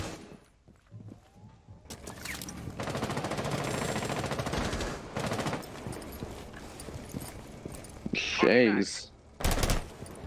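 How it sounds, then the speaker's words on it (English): Gunfire is traded in a competitive esports shooter match, with sustained bursts of automatic fire building through the middle and sharp louder shots near the end, under a commentator's voice. "there have been some shots exchanged"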